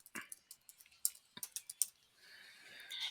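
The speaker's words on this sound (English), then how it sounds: "I'm typing my name in there." Computer keyboard keys are typed in a quick irregular run of sharp, close clicks, followed by a soft hiss.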